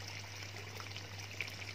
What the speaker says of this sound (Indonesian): Ada pancuran kayak gini dia mangap-mangap-mangap